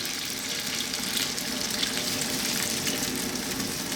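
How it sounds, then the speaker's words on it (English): Continuous splashing of water pouring steadily into a pot of spiced lamb stew, close and fairly loud, with no talking. "So I'll just put like a couple of pints of water in."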